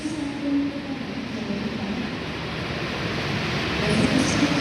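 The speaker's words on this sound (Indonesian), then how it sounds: "Kereta api Gaya Baru Malam Selatan yang menyusul pertama" The Gaya Baru Malam Selatan passenger train rolls past at Kroya station with a loud, continuous rumble of wheels on rails that swells slightly toward the end, heard from close by.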